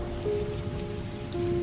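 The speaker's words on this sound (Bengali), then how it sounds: "আর সাথে ছিল বৃষ্টির।" A short burst of steady rain patters on a surface for a cartoon ghost story set on a stormy night at a cremation ground, with a faint tonal hum running underneath.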